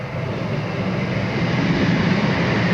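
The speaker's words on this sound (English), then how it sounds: "real life sound effects there, and the train passing" An OO scale model railway train's built-in sound effects play a passing train, a steady broadband rumble and roar that builds slightly in loudness, heard alone without talk.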